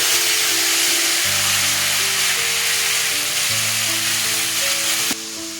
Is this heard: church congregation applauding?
no